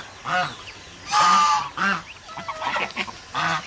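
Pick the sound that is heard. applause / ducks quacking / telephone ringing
ducks quacking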